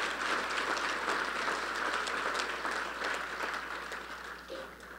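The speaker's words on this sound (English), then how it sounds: "I'll give them a round of applause" Audience applause at a hall of fame ceremony, a continuous wash of clapping that holds steady and then gradually fades over five seconds, heard from a moderate distance.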